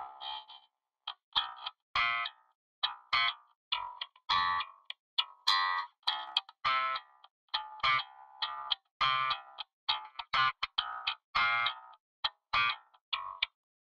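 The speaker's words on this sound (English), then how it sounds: "Next, we've got the Sans amp, which I've absolutely cranked the EQ of." Bass guitar through a SansAmp with its EQ cranked plays short, choppy plucked notes with crunchy, gritty distortion, a rhythmic stop-start line with clear gaps between notes, played alone and fairly quiet.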